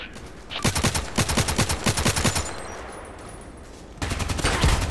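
An RPK machine gun in the shooter game Contract Wars fires two rapid bursts of close, loud automatic shots, the first about two seconds long, then a pause before another burst begins.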